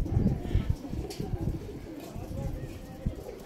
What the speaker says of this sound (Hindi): सारे ही बड़े कबूतर हैं और साथ बच्चे हैं।